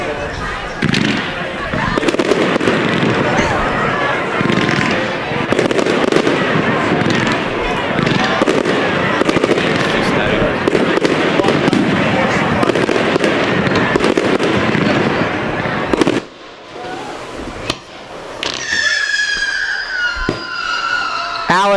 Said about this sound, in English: I know they're just fireworks